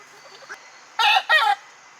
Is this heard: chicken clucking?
yes